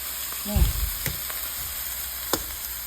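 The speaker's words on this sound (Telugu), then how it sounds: "ఇట్లా వెజిటబుల్స్ స్టిర్ ఫ్రై చేసి హైలో ఓన్లీ 2 minutes కదా" Mixed vegetables are stir-fried on high heat in a pan, a steady hissing sizzle broken by a few spatula knocks and scrapes, with a brief voice-like sound near the start.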